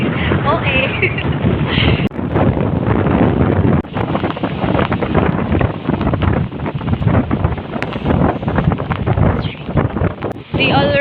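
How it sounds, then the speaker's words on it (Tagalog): Strong storm wind buffets the microphone outdoors near the sea by a small farm, a loud, continuous roaring rumble with gusty surges, and a voice can be heard through it. "The wind is pushing me."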